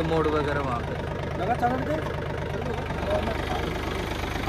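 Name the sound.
Mahindra Oja 2127 4WD tractor engine running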